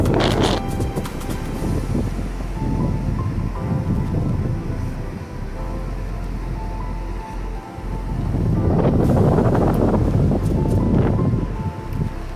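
Rough sea waves churn and crash continuously around an island in Grenada while strong wind roars across the microphone, loud and steady throughout.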